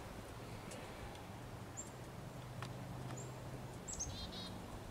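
Faint, sparse bird chirps ring out over a low steady hum and outdoor background noise beside a rotisserie grill after thunder, a few brief calls clustered near the end.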